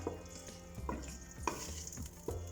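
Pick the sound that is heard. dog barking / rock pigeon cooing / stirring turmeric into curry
stirring turmeric into curry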